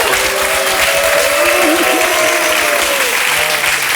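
Studio audience on a French television talk show clapping steadily, a dense continuous wash of applause across the whole stretch with a voice talking faintly over it.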